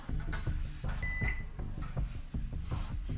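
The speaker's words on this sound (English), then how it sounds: "the microwave." A microwave oven runs off an Ecoflow Delta Mini portable power station, a steady close hum with thumps and a brief electronic beep partway through, and no one talking.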